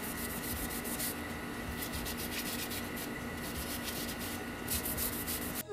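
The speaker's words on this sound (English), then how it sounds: "I'm just going to sand everything to make it all smooth and then just repaint it black so it looks like the back rim." Hand sanding of a rusty bicycle rim before repainting, a steady dense abrasive rubbing that runs close and continuous for the whole stretch with no voices.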